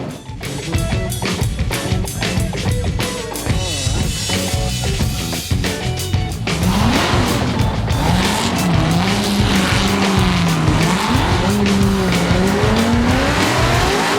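A Formula Drift car drifts during 2022 qualifying, engine roaring and rapping loud and close, then a long sustained tire squeal with wavering pitch as it slides toward the wall.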